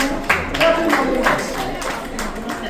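Audience at a Haitian book fair in Montréal claps briefly, a short burst of scattered hand claps with some crowd voices mixed in over under three seconds.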